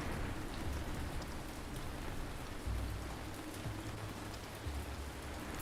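Steady rain ambience of the Rainy Mood kind, a dense even patter of drops on surfaces with a soft low rumble underneath, no voices.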